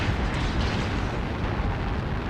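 A destroyed enemy mech explodes in MechWarrior Online, a dense sustained roar of low rumbling blast noise filling the whole moment without letup, loud and close with no talk over it.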